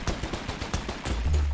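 Sniper rifle fire in the shooter game Kompete comes as a quick run of sharp, punchy shots in an uneven rhythm, close and fairly loud, followed by a deep booming rumble at the end, with no speech.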